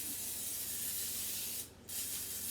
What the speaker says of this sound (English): I want to spray this pan with some